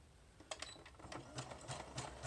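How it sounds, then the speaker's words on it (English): A sewing machine stitches flat tassel fringe in quick, faint rhythmic bursts, its needle clattering steadily at close range. "I'm just going to sew this to the top"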